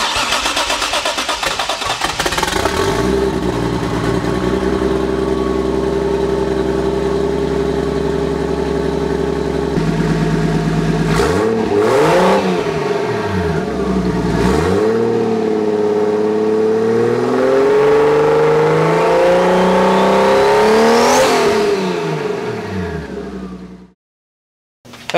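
A 1JZ Supra engine with a single turbo conversion idles roughly, then revs up and down in several loud sweeps before cutting out near the end, with no talking.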